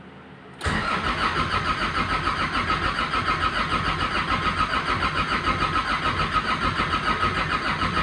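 A Nissan CD17 diesel engine cranks after a brief quiet moment, a steady loud churning that runs on without catching, close up and with no talk.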